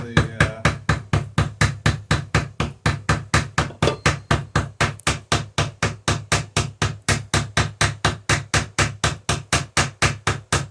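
Rapid, steady hammer blows rivet the iron centerboard mechanism of a sailing dory, a Chamberlain Alpha Dory, against a backing block braced on a building, roughly four sharp ringing strikes per second, close and loud.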